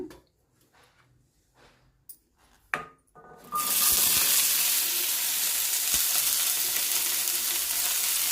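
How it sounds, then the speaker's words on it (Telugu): Ivy gourd pieces drop into hot oil in a pan. A few soft clicks and taps come first, then a loud, sustained sizzle bursts in and keeps roaring steadily close by, with a couple of dull knocks inside it. "దీంట్లో ఇంకొక స్పూన్ ఆయిల్ వేసి ఈ దొండకాయ ముక్కలు వేసేస్తున్నాను"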